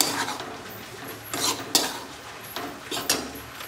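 Wheat flour being roasted and stirred in a pan for ukadpendi, scraping spoon strokes and metallic clinks against the pan, irregular and close, with no talking.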